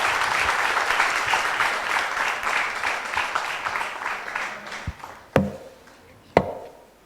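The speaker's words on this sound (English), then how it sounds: "A rousing round of applause for that very," Audience applause after a talk, a thick, steady round of clapping that gradually thins out, followed near the end by two sharp, louder knocks or taps.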